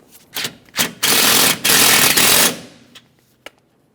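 Bolts on the radiator support of a 2003-2008 Toyota Corolla are run in with a power tool: two short buzzing bursts, then two longer loud whirring runs, followed by a few faint clicks in a quiet garage.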